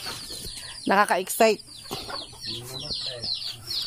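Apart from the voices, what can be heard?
chickens in backyard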